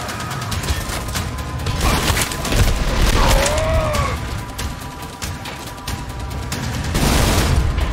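Sustained gunfire from a gun in the shooter game Trepang2, a dense continuous barrage of loud rapid shots with crashing impacts layered over game effects for the whole stretch.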